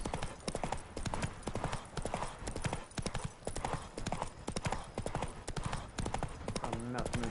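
Horse hooves clip-clop steadily at a brisk riding pace in The Witcher 3, a rhythmic stream of close, clear hoof strikes with some background game sound throughout.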